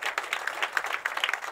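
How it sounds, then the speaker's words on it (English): An audience gives a round of applause at a university conversation event, dense scattered clapping, fairly faint and steady throughout the short stretch with no talk over it. "a round of applause there for Michael Ignatieff."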